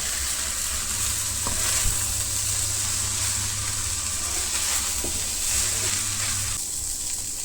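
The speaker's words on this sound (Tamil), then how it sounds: "இது எல்லாமே நல்லா மிக்ஸ் பண்ணி விடணும்" Egg fried rice stirred in a hot pan gives a steady close sizzle and hiss, with occasional soft scrapes and knocks of the spatula mixing it gently, and no talk.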